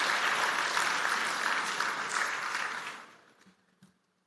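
Audience applause at a keynote address, a dense wash of clapping that holds steady and then fades out toward the end, leaving near silence.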